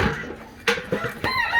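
Chickens clucking and a rooster crowing on a farm, kept in a movable wheeled cage called a chicken tractor; close, short bursts of clucks and squawks with no talking.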